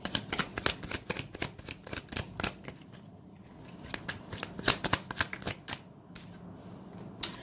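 Tarot cards being shuffled by hand, rapid irregular flicks and riffling snaps in short bursts with brief pauses, close and fairly quiet, no voices.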